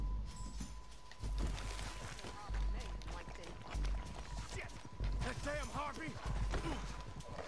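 Horse hooves clop rhythmically in Red Dead Redemption 2 as riders move along, a steady galloping beat mixed with game ambience while voices talk over it.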